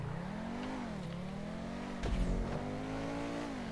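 A car in the GTA Online race game revving and accelerating, its engine note rising and falling in pitch, with a short louder burst partway through.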